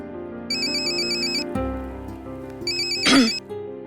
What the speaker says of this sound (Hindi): ईशान का फोन।